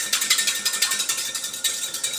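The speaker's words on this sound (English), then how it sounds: "Let's give this a quick little stir. I have a little whisk here," A small whisk stirring salad dressing with Dijon mustard in a bowl: quick, steady, rhythmic scraping strokes at about five per second, close and fairly loud, with no talking.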